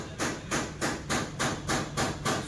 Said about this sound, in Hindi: 3 नंबर पिस्टन भी जो है अपना अपन ठोक देते हैं इसको